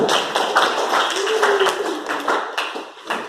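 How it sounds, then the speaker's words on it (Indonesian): A class of schoolchildren claps hands together in a classroom, producing a loud, uneven run of overlapping claps across the whole stretch, mixed with constant chatter and voices from the room. "Lagi. Oke, tepuk tangan."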